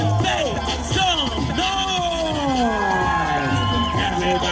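An outdoor street-performance crowd on Fremont Street cheers, whoops and shouts continuously, with children's voices and excited yelling layered over a steady, loud wash of audience noise.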